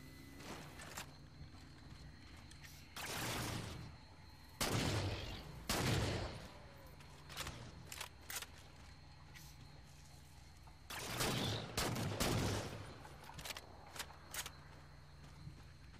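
Assault rifle fire in the shooter Halo 4: several short bursts of automatic shots come at uneven intervals, with quieter game noises and occasional clicks between them.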